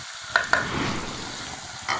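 Flour being stirred in a pan over low heat for a creamy white sauce, a steady soft hiss with a few sharp scrapes of the utensil against the pan, close and unaccompanied by voices.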